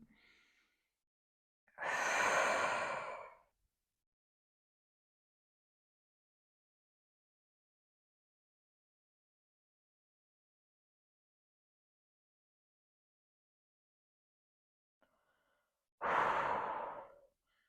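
Two slow, deep diaphragmatic breaths during a pelvic floor exercise, each a long audible inhale or exhale of about two seconds, close and clear, separated by a long stretch of silence.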